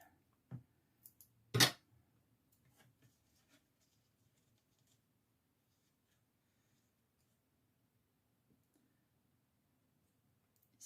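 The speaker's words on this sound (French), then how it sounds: "On va prendre un petit carré en mousse. Voilà. On va le découper." A small square of foam being cut by hand during a scrapbooking page project, giving a few quiet, brief snips and rustles near the start, then near silence.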